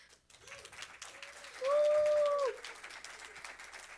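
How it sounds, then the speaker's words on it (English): Crowd applause rises at a security conference session as the first speaker is introduced, with scattered clapping under a brief, loud whistled or squealing tone in the middle before it fades to softer clapping. "Please give a round of applause for our first speaker today, Marisa Fagan, Head of Product at Catalyst."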